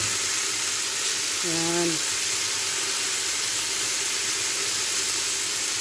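Beef sizzles steadily in hot oil as it is sautéed for a biryani, a constant close hiss that carries through the whole stretch, with one short spoken word near the start.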